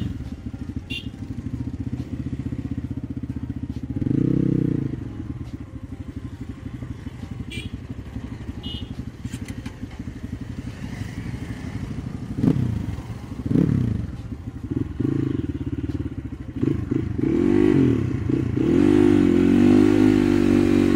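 An enduro motorcycle engine runs and revs nearby, a steady low drone broken by several sharp throttle blips, with clattering and scraping around it and a rising rev toward the end.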